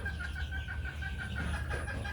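A small young hen, under four months old and recently laying, clucks softly and steadily, close by, over a constant low background hum with no talking.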